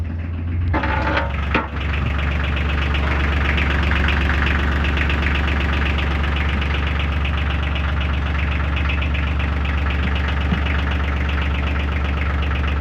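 Marine engines on a Maine lobster boat, cooled by seawater, idle steadily and loudly with a deep even rumble throughout, with a brief knock or bump near the start.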